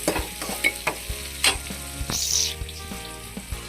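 Onions frying and being stirred in a pan while preparing drumstick-leaf adai, with steady sizzling and repeated scraping knocks of a spoon against the pan, close and moderately loud, no talk.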